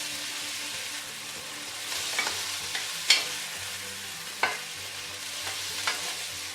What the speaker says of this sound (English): it's time to toss in the meat pieces, ensuring to sear them thoroughly on every side at a high temperature